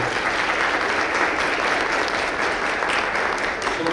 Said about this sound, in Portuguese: Aplausos para você.